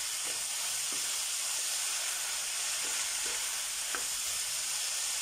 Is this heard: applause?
no